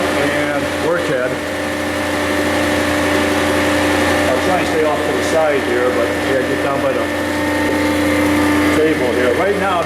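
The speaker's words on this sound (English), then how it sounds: "just to listen to the table and the hydraulics" A Kellenberger 1000U-125 universal cylindrical grinder runs with its table traversing and hydraulics going, wheel head shut down, giving a steady close mechanical hum with faint rhythmic shifts and occasional clicks throughout.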